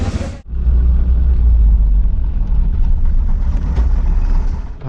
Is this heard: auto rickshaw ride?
yes